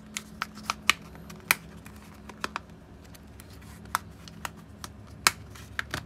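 Sharp plastic clicks and snaps as the back casing of an OPPO A17 smartphone is prised open by hand, a dozen or so scattered crisp clicks over a low steady hum, close up with no talking.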